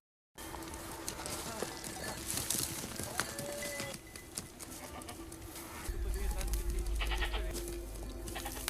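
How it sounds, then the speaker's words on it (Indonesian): A herd of goats bleats intermittently while grazing with three herders, the calls mixed with birdsong and a steady outdoor background, fairly near and moderately loud. "Dan itu adalah segerombolan kambing yang tengah mencari makan, bersama dengan 3 orang penggembala."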